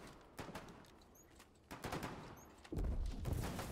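Rapid bursts of gunfire crackle in a tank combat video game, clustered volleys of sharp shots building to a louder, denser barrage near the end, with no talking.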